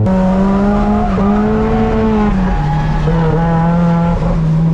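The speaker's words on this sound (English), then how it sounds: "Oh, the car is breaking up bad." A race car on a Japanese circuit runs rough, its engine note breaking up and stuttering as the revs sag and recover, loud and close with a steady droning hum throughout and no voices.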